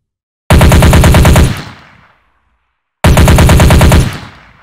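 Two loud bursts of rapid automatic gunfire from an FPS weapon in a Unity video game, each rattling for about a second and tailing off into a short decay, separated by silence.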